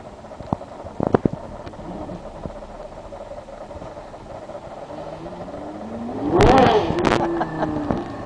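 Gemballa Mirage GT, a modified Porsche Carrera GT, accelerating: a quiet interior with scattered clicks gives way to a loud rising engine rev that swells, peaks and eases off near the end.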